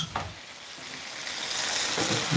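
Soy sauce hits a hot pan of Chinese long bean stir fry, releasing a loud sizzling hiss that swells and grows brighter, with a faint utensil tap near the start.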